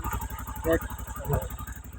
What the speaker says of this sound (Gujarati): જો ગાઈસ આપણું બાઇક જયંતિભાઈ વાળું